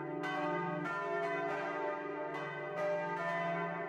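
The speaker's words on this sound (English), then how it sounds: "we got to hear the church bells go off" Church bells ring out from a spire in Pilsen, Czech Republic at noon, overlapping strikes every half second or so with long ringing tails, heard at moderate distance and fairly quiet.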